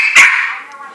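A dog gives a single loud, close bark at a hamster, with a short whining tail fading out afterward.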